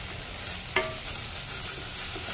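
Spice paste for a Bengali stuffed pointed gourd dish fries in oil with a steady close sizzle, and a single brief clink of a spoon against the pan cuts through partway in.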